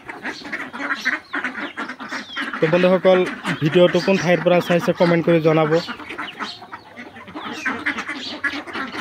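Large domestic ducks, grown to around three kilos, quack in a loud rapid run of nasal calls at close range, with someone talking before and after.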